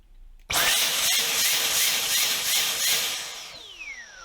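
A Dyson V10 Absolute+ cordless vacuum motor whirs up abruptly and runs loud and close, its high pitch surging and wavering from a blockage before winding down near the end.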